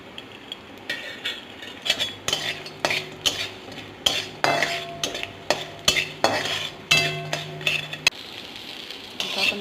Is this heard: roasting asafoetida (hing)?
yes